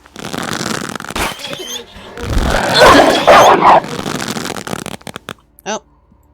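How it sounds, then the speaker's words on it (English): A dog barks in the video game Animallica, a few short yelps and barks mixed with game sounds and background noise, with a sharp high bark near the end. "And there's another dog."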